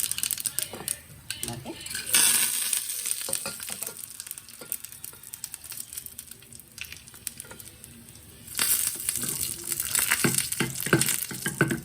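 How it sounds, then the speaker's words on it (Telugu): Curry leaves, cumin and mustard seeds sizzle and crackle loudly in hot oil, the hiss swelling strongly toward the end, with occasional metallic taps of a spoon against the pan. "తాలింపు చక్కగా వేగిపోయింది"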